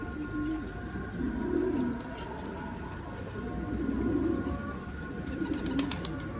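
Pigeons coo softly in a few low, rolling phrases over a quiet background hum.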